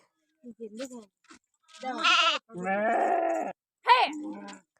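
Several close lamb bleats, wavering and drawn out, separated by short pauses.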